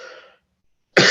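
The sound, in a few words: repeated coughing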